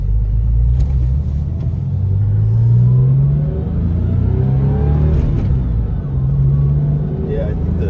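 A Porsche 996 sports car on the move, its engine a loud, close droning rumble that swells and eases as revs rise and fall, with road noise throughout.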